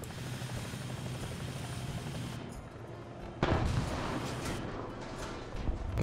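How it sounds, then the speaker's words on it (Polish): Helicopter in a tank battle video game with a T-80U main battle tank, heard as a steady rotor drone with a burst of louder gunfire or explosion noise partway through, no talk. "To jest nasz helikopter."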